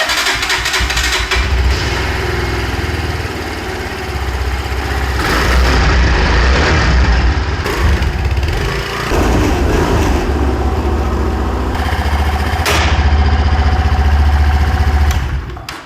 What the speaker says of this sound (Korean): 일단 요 상태로 시동을 한번 걸어보자